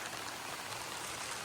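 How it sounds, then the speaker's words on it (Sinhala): Rain falls steadily on the mountain pilgrimage trail to Adam's Peak, a soft, even hiss of drops with no break, faint and close around the listener; no voices. "වහිනවා."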